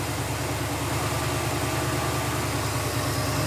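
A vehicle engine idles at a steady, even rumble with a constant low hum and a faint rattly vibration, close and continuous throughout without any voices.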